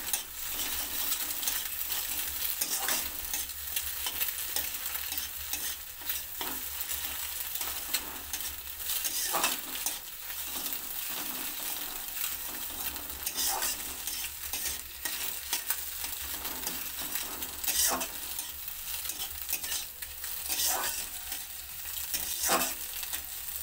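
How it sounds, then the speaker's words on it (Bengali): Egg frying in oil in a wok with salt, giving a steady sizzle with repeated scraping and stirring clinks throughout, close and alone. "ডিমটা ভাজা হয়ে গেছে, তুলে নেব"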